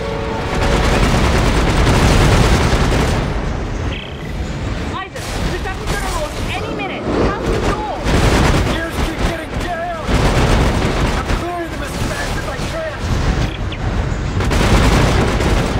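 Sustained turret gunfire from the sci-fi horror game Dead Space 3 in a co-op turret section, loud and continuous with bursts and booming impacts, while players talk over it.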